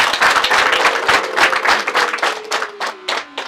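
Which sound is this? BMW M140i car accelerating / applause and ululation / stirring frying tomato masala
applause and ululation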